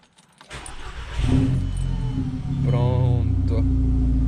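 An Audi A3 2.0 TFSI with a full 2.5-inch exhaust and a sport air filter starts up: a starter crank, then the engine catches and settles into a loud, steady idle close to the microphone.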